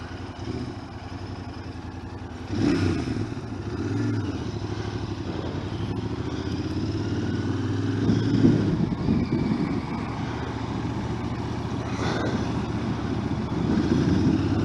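A Royal Enfield Interceptor motorcycle engine runs steadily at a fairly low, even level, with a brief rise in revs near the start and mild mechanical clatter, no talking over it.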